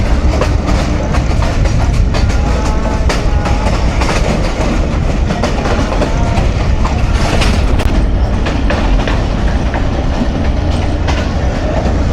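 A PDK shuttle train on the railway line to Khewra runs loud and steady, with continuous rumble and rhythmic clickety-clack of wheels over rail joints, with no talk.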